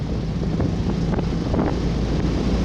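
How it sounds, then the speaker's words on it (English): Strong wind buffets the microphone, a steady low roaring rush with occasional gusts and no voices. "Windy."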